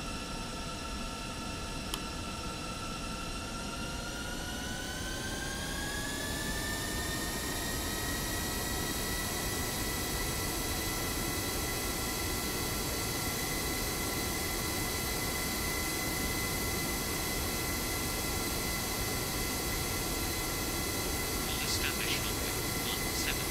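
Airbus A340 jet engines spool up for takeoff in the Real Flight Simulator game, a loud steady roar with a rising whine that climbs in pitch, then holds as a sustained drone throughout.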